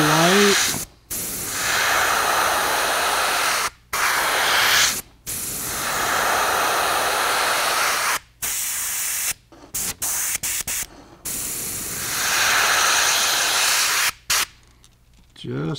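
An airbrush sprays brown paint down the spine of a brown trout pattern fishing bait, a close, steady hiss in long bursts broken by short pauses and quick rapid triggers near the end.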